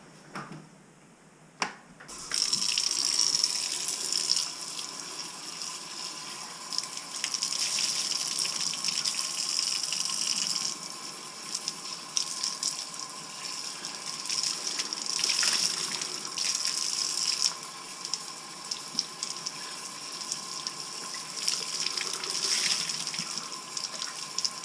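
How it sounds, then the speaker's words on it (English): Water running from a tap into a sink as a grimy rag used on leather truck seats is rinsed and wrung out, a steady close gush lasting throughout with slight shifts in flow. "We're gonna go wring it out and just see how grimy the seats were."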